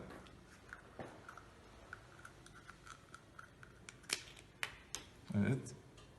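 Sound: scissors cutting a table tennis ball

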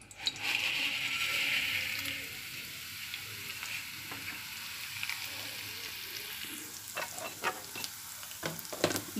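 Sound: vermicelli roasting in ghee in a pan

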